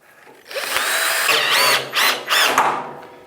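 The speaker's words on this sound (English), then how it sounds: "I need to attach the tabletop to the metal leg. So I got my drill and my socket." A power drill with a socket bit drives fasteners to attach a tabletop to a metal workbench leg: a close, loud whirring burst that runs for over a second, pauses briefly, then revs twice more.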